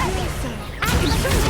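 The Confringo spell fires in Hogwarts Legacy combat with a loud whooshing burst and crashing impact, layered over dense game sound effects and music.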